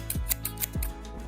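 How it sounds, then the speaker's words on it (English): Scissors snip through afro curly crochet braids during a trim, a few quick crisp cuts in an uneven rhythm, close and clear with no talk. "just using scissors to like do."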